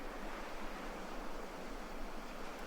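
Continuous ocean surf off Bali at dawn, a dense, even wash of breaking waves heard up close with no pauses or voices.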